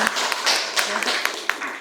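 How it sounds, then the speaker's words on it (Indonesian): Class participants clap during a lesson, with a run of quick, fairly close hand claps blending into short applause while a voice carries on over them. "Tepuk tangan dulu dong"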